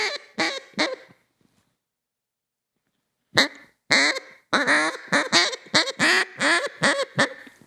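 A few raspy quacks from a duck call imitating a duck, then a pause and a rapid string of about eight loud, close quacks, with no talking.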